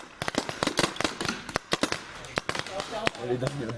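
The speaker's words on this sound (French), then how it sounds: "Vous tirez une ou deux billes pour voir si tout va bien." Paintball marker firing test shots before play in the woods, a rapid run of sharp loud pops in uneven bursts with some voices in the background.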